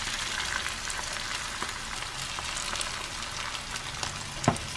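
An egg frying in a pan among shrimp for pad thai, with a steady close sizzle, occasional stirring scrapes and a sharp knock near the end.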